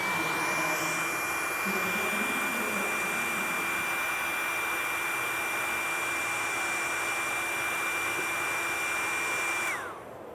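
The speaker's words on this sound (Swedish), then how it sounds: "Ett knep för att torka färgen lite snabbt är en helt vanlig hårtork." A plain household hair dryer blows a steady, loud, continuous roar with a thin whine on top, drying paint on a pike fly, running for about ten seconds before switching off at the end.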